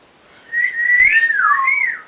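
A voice imitates a rising and falling wolf whistle aimed at passers-by, one short, loud, clear whistle with no words.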